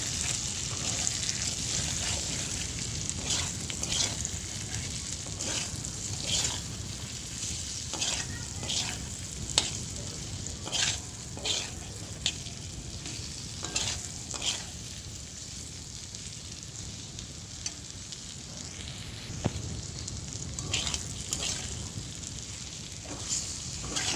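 Two chopped onions frying in oil with potatoes make a moderate, even sizzle, marked by intermittent clicks and utensil knocks throughout.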